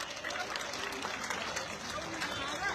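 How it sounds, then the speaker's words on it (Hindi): An audience claps briefly in a quick burst of scattered applause at a gathering, soft and somewhat distant, with voices mixed in. "सब एक बार उनके लिए ताली बजाएंगे"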